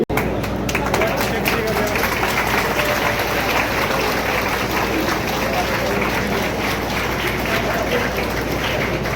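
An audience at a Hindi political speech gives loud, sustained applause, dense continuous clapping from a large crowd that fills the whole stretch, with faint background voices mixed in.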